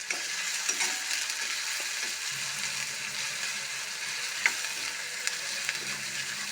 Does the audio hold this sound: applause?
no